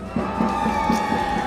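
A live esports crowd at an MPL Malaysia match cheers for RED Esports, a steady roar of many voices with a few rhythmic chant-like swells, loud and sustained across the moment.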